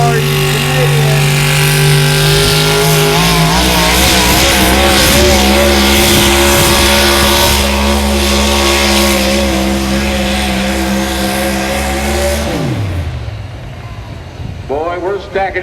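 A Chevrolet four-wheel drive pulling truck at a truck pull, engine revving loud and close with rising, wavering pitch for about twelve seconds before the throttle drops off abruptly, followed by quieter crowd noise.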